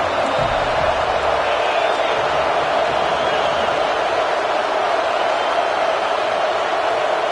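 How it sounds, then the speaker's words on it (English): Stadium crowd at a college football game roaring a loud, sustained welcome for the visiting team, a dense wall of cheering that holds steady throughout with no pauses. "This crowd bringing an ear-splitting welcome to their visitors."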